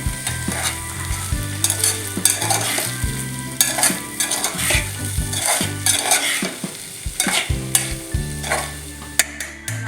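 Poha pulao with turmeric and Kashmiri chilies fries in a pan, a loud, continuous sizzle broken by repeated scraping strokes of a spoon stirring against the pan, close up and without speech.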